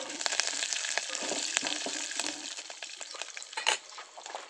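Curry leaves, mustard seeds and cumin crackle and sizzle in hot oil while breakfast is cooked outdoors, a dense, close spitting with sharp pops and the occasional stir or scrape of a utensil.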